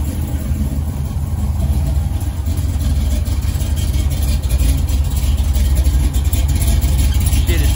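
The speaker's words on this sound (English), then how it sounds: "Alright, turn this loud ass car off." Supercharged big-block V8 in a 1987 Chevrolet Monte Carlo SS idles loudly and steadily up close, a deep continuous rumble with slight rev swells, while people talk over it.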